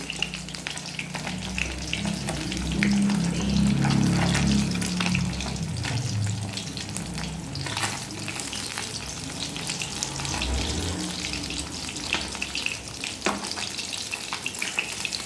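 Steady frying sizzle of rohu and kalbaush fish in hot oil runs throughout, with occasional clinks of utensils and some faint watery splashing mixed in.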